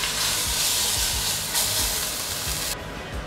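Floured pieces of pot roast beef sear in a hot pan with a steady, loud sizzle and hiss, and the spatter continues uninterrupted for the whole stretch with no talking.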